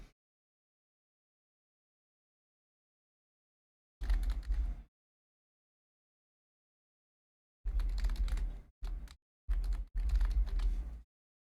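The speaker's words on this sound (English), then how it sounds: "I know y'all hear my typing" Bursts of typing on a computer keyboard: one short flurry, then several rapid clattering runs separated by brief pauses, close and fairly loud with no talk over it.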